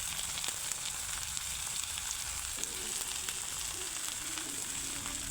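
Chicken frying in a pan crackles with a dense, continuous sizzle, fairly quiet but steady and close, with faint stirring under it and no talk.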